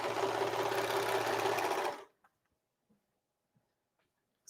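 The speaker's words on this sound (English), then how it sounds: "So you can just sew with your regular sewing machine all the way around." A regular home sewing machine stitches around the edge of an old-fashioned apron, giving a steady, close mechanical whirring for about two seconds before stopping abruptly, followed by a few faint clicks and near silence.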